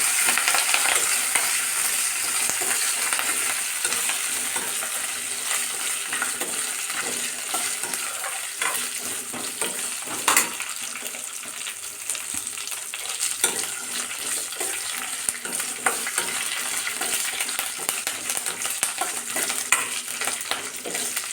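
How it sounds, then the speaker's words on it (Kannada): Curry leaves, coriander, ginger and garlic frying for a dhaba-style egg curry, a steady bright sizzle in the pan with occasional stirring scrapes and clinks, close and continuous with no voices. "ಕರಿಬೇವು ಕೊತ್ತಂಬರಿ ಶುಂಠಿ ಬೆಳ್ಳುಳ್ಳಿ ಹಾಕಿಬಿಟ್ಟು ನೀಟಾಗಿ ಫ್ರೈ ಮಾಡ್ಕೋಬೇಕು"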